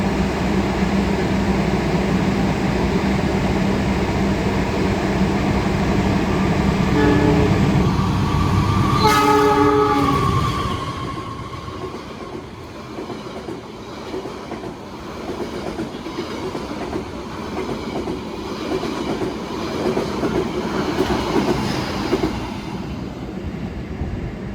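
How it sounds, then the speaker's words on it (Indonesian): The Argo Wilis passenger train rumbles steadily through a station without stopping, a loud horn blast sounding midway, then the rolling clatter of wheels fades to a softer, lingering rumble. "akan melintas langsung kereta api Argo Wilis dari Surabaya Gubeng tujuan akhir stasiun Bandung"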